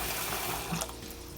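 Cold tap water runs into a pan holding washed chicken, a short steady rushing pour with a slight splashy shift near the end.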